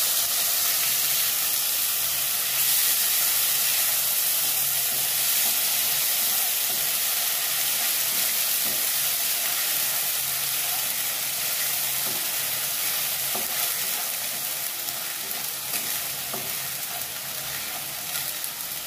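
A ground paste of onion, ginger, green chili and garlic frying in hot oil in a pan, giving a steady, continuous sizzle and hiss that lasts throughout, with faint stirring scrapes and no talk.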